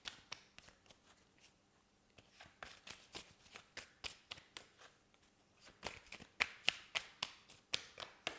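Tarot cards are shuffled and drawn at close range, with a run of crisp, rhythmic riffling taps and slaps that grows louder toward the end, with no talking.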